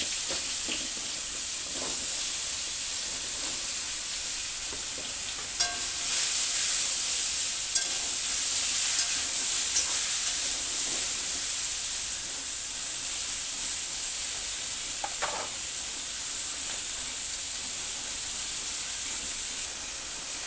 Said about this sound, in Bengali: এখন ওই তেলের মধ্যে পটলগুলো ভেজে নেব